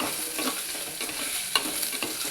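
Shallots sautéing and being stirred in a pan for ginger kuzhambu, a steady close sizzle with light scraping stirs and no voices.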